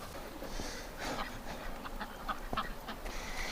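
Ducks quacking in a winter enclosure, a few short calls rising over steady outdoor background noise, fairly near.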